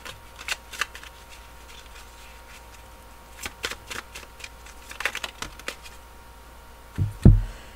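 Oracle cards shuffled and drawn for a reading, scattered crisp riffles and light slaps of cards at close range, with a louder thump near the end.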